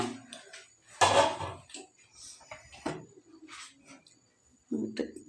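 A metal pot lid lifted off a pan of homemade egg cake, giving a loud clatter of metal on metal followed by a few lighter knocks and clinks in a quiet kitchen.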